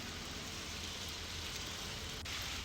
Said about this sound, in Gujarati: સુરત શહેરની અંદર હવામાન વિભાગ દ્વારા આગાહીના પગલે ધોધમાર વરસાદ વરસી રહ્યો છે